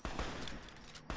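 Gunfire in Fallout New Vegas, a rapid burst of close, punchy shots with crackling impacts, starting and ending with sharper reports over a brief, dense stretch.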